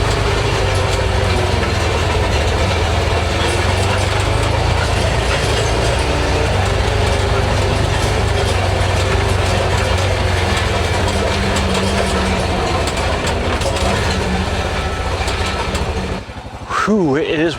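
A side-by-side utility vehicle running through maple woods at about 20 miles per hour, its engine droning loud and steady with rattling mechanical clatter, then dropping off briefly near the end.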